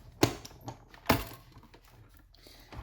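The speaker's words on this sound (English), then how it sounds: "let's get the Stampin' Cut and Emboss machine and give that a crank" A Stampin' Cut and Emboss machine being cranked to emboss card stock for a birthday card, with two sharp mechanical clunks followed by a softer rolling rattle, close and fairly quiet.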